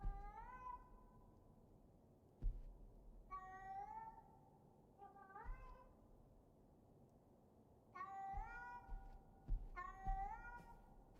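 A cat meows repeatedly in a horror video game, five separate drawn-out mewing calls spaced a few seconds apart, clear and fairly close over a low background hum, with no speech.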